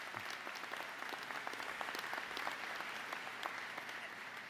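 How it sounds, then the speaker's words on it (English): An audience at a community college commencement applauds a graduating student, a steady, continuous wash of many hands clapping, heard at a distance and fairly faint. "let's give her a round of applause"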